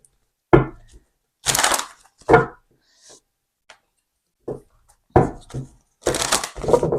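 A deck of tarot cards being shuffled in several separate bursts of riffling and crisp slapping, close and fairly loud, with brief pauses between bursts and no voices.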